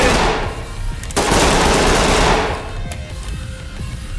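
Gunfire in a shooter video game firefight: a loud burst of rapid machine-gun fire that cuts off, then a second long burst that fades into scattered shots and echoing noise, with no talk.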